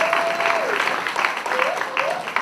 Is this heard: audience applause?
yes